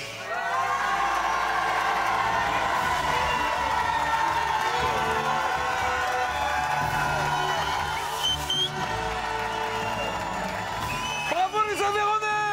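A crowd in Aveyron cheers, whoops and applauds continuously for a couple, a dense roar with children's shouts on top that swells again near the end, steady and loud throughout.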